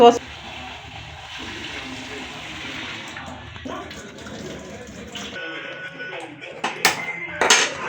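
Soaked tamarind and beaten rice are rinsed in water for a Kannada gojjavalakki breakfast, with sloshing and splashing water and occasional clinks of a vessel, moderately loud and close, ending in a few sharper knocks.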